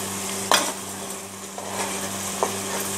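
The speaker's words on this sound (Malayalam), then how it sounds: "ഒന്ന് മിക്സ് ചെയ്ത് കൊടുക്കാം." Bitter gourd pickle stirred in a pan with a spoon, three distinct scraping strokes over a steady low sizzle, close and fairly quiet.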